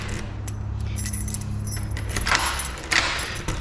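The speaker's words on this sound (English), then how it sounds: "I'm going to make sure we just test all 3 of my keys." Metal keys jangle and clink steadily while being tried in a Kwikset SmartKey lock during rekeying, with a couple of sharper clinks near the end and a low hum underneath.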